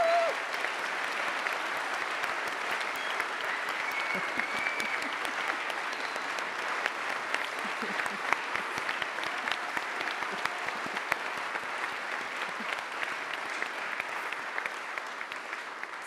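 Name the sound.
audience applause for the consultants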